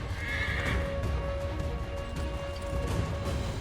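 A horse in Assassin's Creed 3 whinnies loudly near the start, followed by steady clip-clop of hooves under a low ambient game rumble, with no speech over it.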